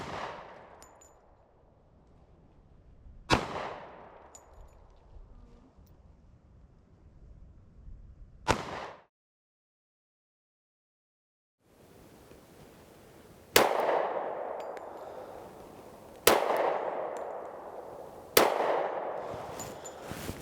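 A Springfield Armory XDS 3.3 .45 ACP pistol fires at steel targets outdoors, giving six sharp, loud shots spaced out with ringing decay, the last three close together.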